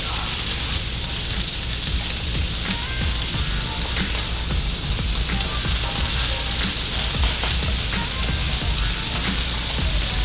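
Garlic frying in hot avocado oil, a steady dense sizzle and crackle that holds at an even level throughout without a break.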